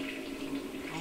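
Rushing water from a toilet flushing in a flash video game, a steady one-second wash with a faint tonal hum underneath, heard alone.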